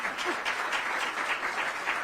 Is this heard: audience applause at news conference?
yes